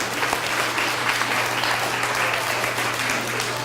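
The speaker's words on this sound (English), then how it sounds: "let's give Outer Limits a big round of applause on TV" Parents at a Washington Elementary School event give a steady, dense round of applause, continuous from start to finish with a faint low hum beneath it.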